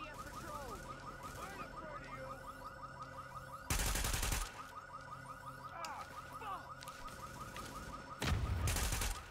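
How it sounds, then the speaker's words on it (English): Bursts of gunfire in The Division, loud sharp volleys standing out twice against a steady background of alarm-like tones and ambient noise, with no talk. "Who the hell's shooting at me from over here now?"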